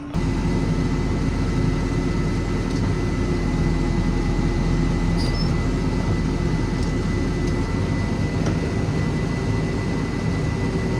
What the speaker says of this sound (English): It's actually a pretty nice tractor.